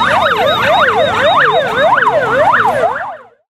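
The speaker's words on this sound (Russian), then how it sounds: "Поступает сигнал тревоги." Wailing alarm siren sounds at a fire-fighting drill on a fire training ground in Akhtyrsky near Anapa, loud and close with a steady rising-falling cycle repeating about five times before cutting off abruptly.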